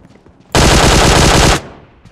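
A loud, sustained burst of rapid automatic gunfire from a video game lasts about a second, with no talk over it.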